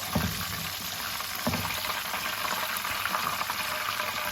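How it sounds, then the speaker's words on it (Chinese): Eggplant meat rolls deep-frying in hot oil, a steady dense sizzle and crackle that carries on throughout, close and fairly loud, with occasional faint bumps. "我们一直炸至所有的茄子肉卷表面颜色金黄"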